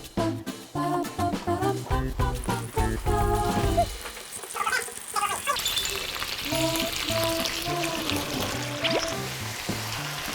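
Sliced garlic stir-fries in an aglio olio pasta sauce, a steady sizzle beneath loud rhythmic music that runs throughout.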